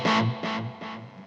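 A distorted guitar chord on a Hughes & Kettner Black Spirit 200 head repeats through a delay effect, sounding three times in even succession, each echo quieter and softer than the last.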